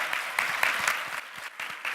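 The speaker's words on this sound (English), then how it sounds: "A round of applause for yourselves for joining us here today." An audience at a keynote talk on bravery claps in a sustained round of applause, dense and fairly close, with no voices over it.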